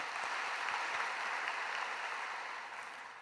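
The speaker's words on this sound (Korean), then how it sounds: "다시 한번 감사의 박수 올리겠습니다" A church congregation at an early-morning service gives a short round of applause, a faint, even patter of many hands heard from a distance, fading slightly at the end.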